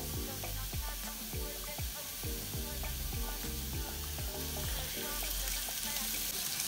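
Oil sizzles in a pan with beef being cooked for pilau, a steady loud frying hiss with rhythmic scraping and stirring knocks from a utensil repeating through the whole stretch.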